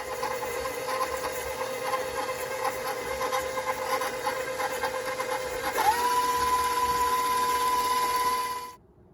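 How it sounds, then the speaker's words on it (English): A stand mixer creams sugar and fat together, its motor a steady whirring hum with a faint rhythmic rattle that shifts to a higher, even whine partway through before cutting off abruptly. "Beater on there, raise it up, and we're going to mix this. This is again the creaming stage with our sugars and our fats"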